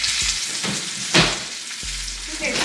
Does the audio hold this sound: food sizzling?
yes